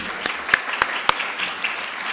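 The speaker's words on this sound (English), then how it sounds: "let's give a very warm round of applause to Robert Barbera" Brief audience applause at an evening book presentation in Los Angeles, a steady patter of many hands clapping with a few sharper individual claps standing out, moderately close.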